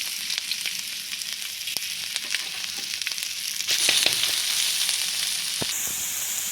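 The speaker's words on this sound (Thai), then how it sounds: "เราก็ใส่หมูกับใส่พริกลงไปผัดก่อนนะครับ" Pork and chilies stir-fried in a hot pan give a steady, close sizzle with occasional scrapes and stirs, growing louder partway through as the pan hisses more strongly.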